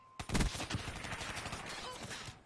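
Burst of rapid gunfire in a shooter video game, a dense run of sharp cracks that starts abruptly and rattles on for about two seconds, loud and close.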